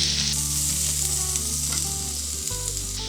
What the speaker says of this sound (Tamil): ஆனியனை கொஞ்சம் வதக்கிக்கலாம்.